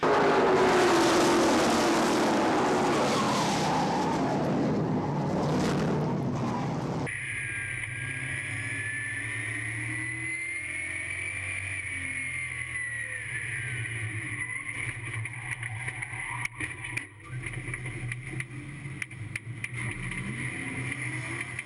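Stock race cars of the CRA SpeedFest at Watermelon Capital Speedway drone continuously, a loud broadband engine roar giving way to a steady, farther-off sustained hum with rising and falling pitch as the field circles.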